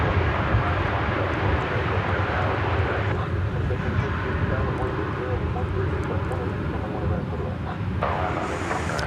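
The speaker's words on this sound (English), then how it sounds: "And that would be flight 32 to Seoul, 787-9 Dreamliner" A Korean Air Boeing 787-9 Dreamliner departing Dallas Fort Worth Airport produces a steady, rumbling engine roar on a windy day, with a voice talking over it.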